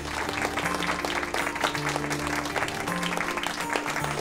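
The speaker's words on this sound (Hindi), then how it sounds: "आज के दूसरे हीरो के लिए तालियां।" Steady applause from a group, dense clapping that fills the whole stretch at an even level, with a faint musical tone underneath.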